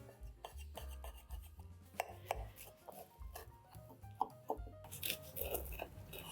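A knife slicing through tuna sandwiches made from canned tuna, giving repeated close crunchy cuts through bread at an uneven rhythm with small clatters on the board, with no talking.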